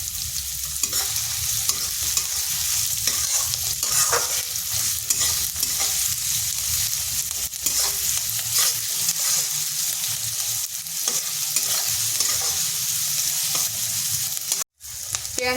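Onion fries lightly in a pan with a steady, close sizzle and frequent stirring clicks and scrapes throughout, broken by one brief dropout near the end.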